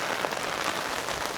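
Steady rain falls outdoors on a street, a dense, even hiss of drops that stays constant with no voices.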